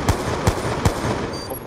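Shotgun blasts in a first-person shooter video game, three quick evenly spaced booming shots in a row over continuous game sound.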